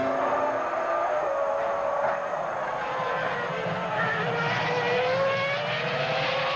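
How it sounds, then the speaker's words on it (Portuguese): Onboard a Ferrari-engined Sauber Formula 1 car at the Malaysian Grand Prix, where a loud, steady high-revving engine scream runs without a break and rises slightly as the car accelerates. "Você vai de carona, motor Ferrari na Sauber de Nick Heidfeld."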